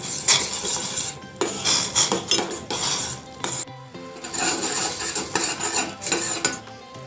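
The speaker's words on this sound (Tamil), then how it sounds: "நல்லா கிண்டி விட்டு அது கரையிற வரைக்கும் நல்லா வேக விடலாம்" A metal spoon scrapes and clanks against a pan in repeated strokes while tender coconut pudding mixture is stirred, close and fairly loud with a soft bubbling beneath.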